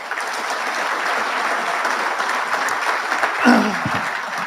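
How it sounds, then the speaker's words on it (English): Sustained applause from an audience at a Marine Corps awards dinner, steady dense clapping throughout with a brief voice or whoop near the end. "let us give another round of applause to Sergeant Peterson for her voice."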